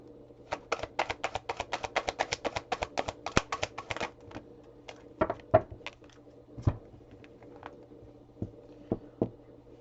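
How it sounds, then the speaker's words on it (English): Tarot cards being shuffled by hand, a rapid run of crisp riffling clicks for about four seconds, then a few scattered taps and card handling sounds, close and fairly quiet with no talking. "You want me to shuffle this one more time?"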